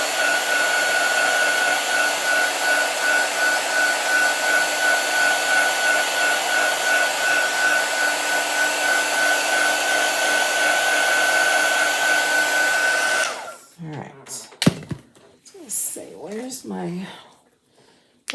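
A hair dryer drying chalk paint blows a steady, loud whirring hum for about thirteen seconds and then cuts off, after which a person speaks.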